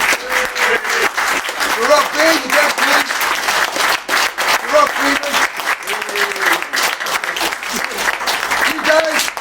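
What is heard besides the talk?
audience applause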